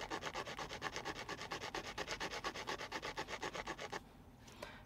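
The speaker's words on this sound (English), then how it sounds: "I'm quite literally using it as a rasp" A hand-knapped stone knife scraped like a rasp across wood, about thirty fast, even back-and-forth rasping strokes heard up close and loud, then a sudden stop with a faint click.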